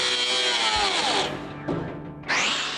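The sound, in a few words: power tool cutting the frame of a 1970 Dodge Challenger R/T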